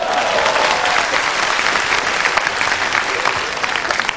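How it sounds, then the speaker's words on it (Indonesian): A stand-up comedy crowd in Indonesia breaks into loud, dense applause for Ernest, a full, continuous roar of many hands clapping that stays strong throughout, with no speech on top. "tepuk tangan untuk dia"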